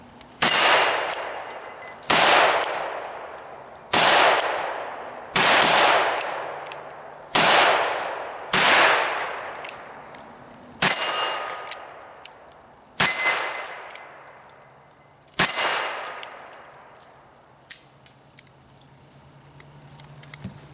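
A Ruger New Vaquero revolver fires shot after shot at steel plates outdoors, each sharp crack followed by a ringing metallic clang that fades slowly, spaced about two seconds apart through a string of around nine hits.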